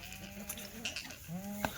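Goats from a Junagadh, Gujarat herd bleat in short, wavering calls, a few distinct cries close by over a noisy pen, without speech.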